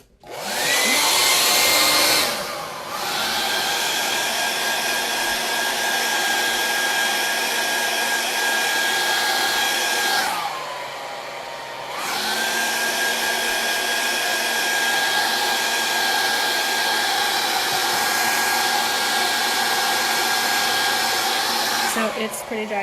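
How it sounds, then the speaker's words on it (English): A hair dryer blows close and loud to dry a chalk transfer, droning steadily with a short dip in power partway through before it runs on again. "So I actually have a hair dryer. I'm going to try and speed up the process of this"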